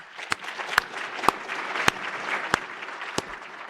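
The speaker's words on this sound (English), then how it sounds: "Let's give them a round of applause." Audience applause at an annual meeting: a steady patter of many hands, with a few sharp, louder claps standing out at regular moments close by.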